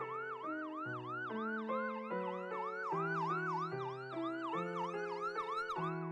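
An ambulance siren wails continuously and loudly, cycling through a repeating rising-and-falling two-tone pattern roughly every half second, with no talk or other sounds.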